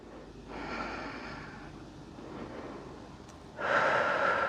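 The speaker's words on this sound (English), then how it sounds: "a couple more deep breaths here" Slow, deep breathing in a gentle restorative yoga session, two long airy breaths close to the microphone, the second louder, with no talking over them.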